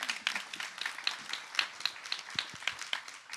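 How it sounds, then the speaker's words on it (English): An audience applauds a panel at a forum, a short burst of scattered hand clapping from a moderate crowd that is fairly faint and sounds a little distant. "So a round of applause for Cynthia and for our entire panel."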